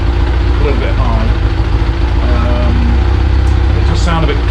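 A Kawasaki GPZ600R motorcycle engine ticking over at a lowered idle of around 2,000 RPM, a steady, slightly clattery rumble that runs continuously and loud throughout, close to the bike.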